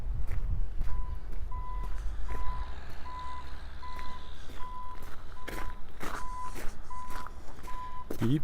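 A truck's reversing alarm sends out a steady series of evenly spaced beeps, about ten in a row, over traffic rumble and crunching footsteps on a late-winter walk in Regina.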